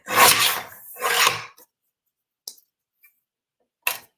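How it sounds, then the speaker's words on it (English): Gold paper is cut for a gift card with two close, rasping scissor or trimmer strokes, followed by a few faint ticks and one sharp click near the end, all with no talk. "I'm going to cut this gold piece 3 3/4 inch square."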